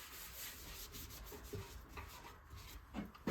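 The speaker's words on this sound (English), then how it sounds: "It's gonna be a really light sanding on the primer on top of this" Light hand sanding of primer on a metal part, soft repeated rubbing strokes, quiet and close.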